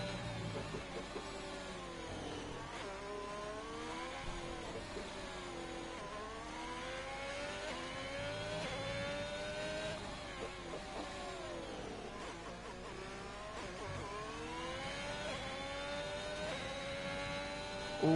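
A Formula 1 car engine in a racing video game whines continuously at high revs, its pitch sweeping up and down through gear changes and braking, steady and unbroken.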